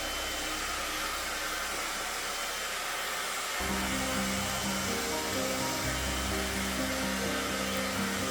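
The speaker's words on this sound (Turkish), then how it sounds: "Saç kurutma makinesiyle tamamen karışımımızın dağılmasını da sağlayabiliriz." A hair dryer blows over a freshly mixed epoxy resin, a steady close airflow roar that jumps to a louder, deeper setting partway through and then continues without any talk.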